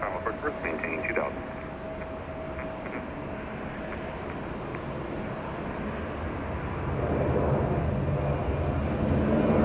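Boeing 747 flying as Air Force 2 arriving at LAX in a gusty crosswind, a steady broadband jet roar that swells toward the end, with radio chatter heard early on.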